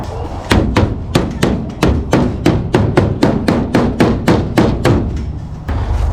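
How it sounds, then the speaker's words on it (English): Repeated sharp metallic hammer blows on a wrench to knock out a dent in a 1952 Plymouth, about fifteen strikes in a steady rhythm, ringing loud and close with no talking. "I'm gonna stick a wrench in there and hit it with a hammer and try to whack that dent out"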